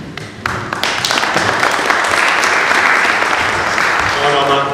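Audience applause at an Italian civic meeting in Lavello on historic carnivals, a dense, steady burst of clapping from a roomful of people, loud and sustained throughout with some faint voices beneath it.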